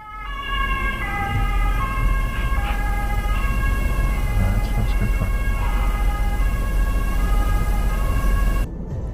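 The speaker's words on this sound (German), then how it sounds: "Das wird gleich auf der Kreuzung richtig knapp hier mit dem Rettungswagen." An ambulance siren wailing at a road intersection, heard from a truck cab, with loud repeating tonal sweeps over steady engine and road rumble for most of the clip.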